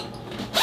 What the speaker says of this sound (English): wear one with a zipper